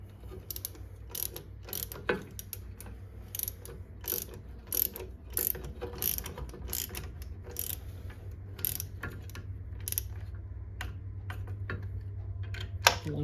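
Ratchet wrench with a 17 mm socket turning a battery terminal bolt on a Yanmar B12 mini excavator, giving a run of quick, close clicking bursts over a steady low hum with no talk.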